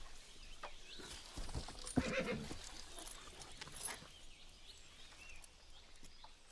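A horse whinnies briefly and faintly, with a few hoof clops and scattered rustling in a quiet setting.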